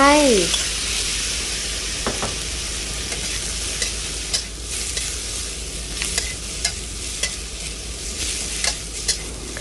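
Unlaid chicken egg yolks are stir-fried in a hot wok with holy basil and dried chillies, giving a continuous loud sizzle broken by repeated sharp clacks and scrapes of a spatula against the metal.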